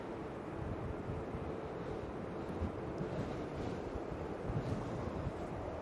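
Steady gusting wind at Manchester Airport buffeting the microphone, a continuous low rumbling roar with no break and no talk.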